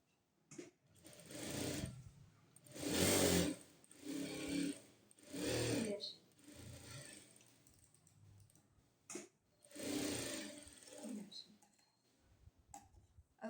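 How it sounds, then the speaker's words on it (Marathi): A sewing machine stitching a blouse lining runs in repeated bursts of rapid mechanical clatter, about six runs of a second or two each with short pauses between them, heard close and clear. "ह्याच्या साईडनी आपल्याला शिलाई मारायची"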